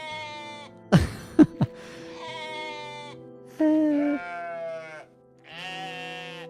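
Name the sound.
goat bleating sounds from the video game OneShot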